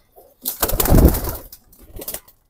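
An adult pair of military breed pigeons cooing close by in a few soft, throaty bursts, the longest in the middle, with short pauses between and no talk.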